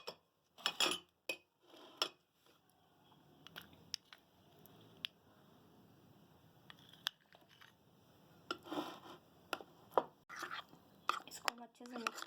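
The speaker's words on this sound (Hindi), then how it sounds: "सबसे पहले हमारी फ्रेश क्रीम में कंडेंस मिल्क को ऐड करके मिक्स कर लेंगे" Fresh cream and condensed milk are mixed in a bowl, with intermittent spoon clinks and scraping against the dish, soft and close, alongside quiet voices.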